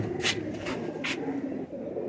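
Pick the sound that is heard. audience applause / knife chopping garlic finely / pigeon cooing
pigeon cooing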